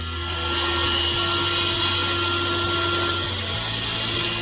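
Harsh, continuous band saw noise cutting through wood, a steady grinding buzz with no pauses and no voices.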